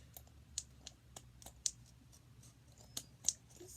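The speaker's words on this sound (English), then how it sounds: "These scissors are not that great, so just bear with me here." Scissors cutting paper for a homemade notebook, a series of small, quiet clicks and snips at an irregular pace against a faint low hum.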